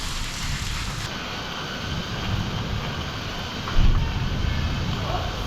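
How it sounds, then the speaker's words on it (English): Steady rain falls at night, a constant broadband hiss of drops with a brief louder surge near the end, heard alone at moderate level. "I like it when it's raining like this, especially at night."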